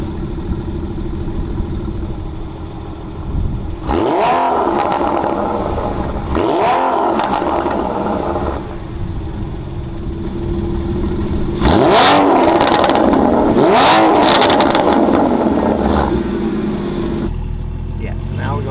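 A Porsche 981 with a Soul Performance competition exhaust revving loudly nearby, repeated throttle blips rising and falling over a steady idle, with talking throughout.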